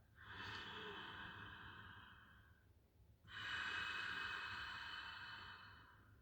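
Two long, soft breaths, an inhale then an exhale, each with a hissing, slightly constricted throat sound, quiet and close.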